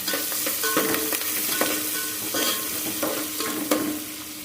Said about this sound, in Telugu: దాంట్లో ఆనియన్స్ వేసుకోవాలి ఆనియన్స్ పచ్చిమిర్చి కలుపుకోవాలి